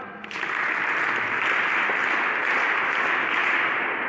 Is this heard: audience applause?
yes